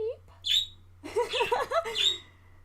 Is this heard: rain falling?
no